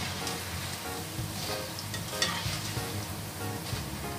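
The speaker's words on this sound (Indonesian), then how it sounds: "Ini pastikan gorengnya pakai api kecil ya, jadi tidak mudah gosong dan matang sampai dalam." Food fries in a pan over low heat, giving a steady close sizzle with soft stirring scrapes and occasional crackling pops, and no talk.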